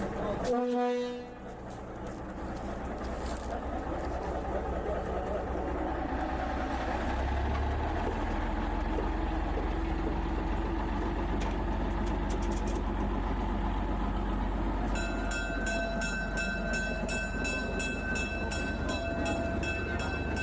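A small do-it-yourself tourist railroad train runs with a steady, loud rumble and mechanical hum, with a high tonal whine joining later, while people talk nearby over it.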